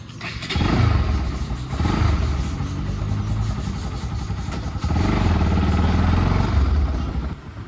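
A Bajaj NS200 motorcycle engine cranking and firing up, rough clattering revs rising and settling into a loud close idle, repeated in a couple of bursts with brief dips between.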